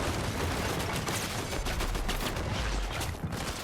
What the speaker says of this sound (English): picking up a set of eliminations, actually showing us what that sniper setup is all about